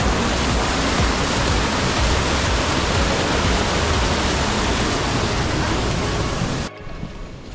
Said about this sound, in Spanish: vea qué caída de agua, tan bacán